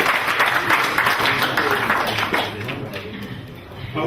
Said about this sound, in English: Please give him another clap.